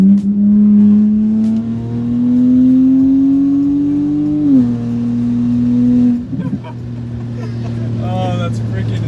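A straight-piped BMW 335i with the N54 engine, exhaust run from the turbo back, drones loudly from inside the car. Engine pitch climbs under throttle, drops sharply on a shift, then crackles with a few exhaust pops.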